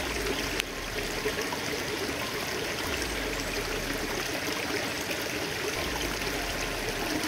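A river stream flows steadily, its continuous rushing and trickling water filling the scene alone without voices, with no clear change in level throughout.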